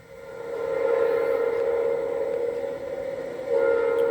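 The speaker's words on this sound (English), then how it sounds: "northbound piggyback train number 210 sweeps around the curve behind a pair of Norfolk Southern locomotives" Northbound Florida East Coast piggyback freight train led by two Norfolk Southern locomotives rounding a curve in 1997, a steady loud rumble with a sustained tonal horn-like drone that swells and holds to the end.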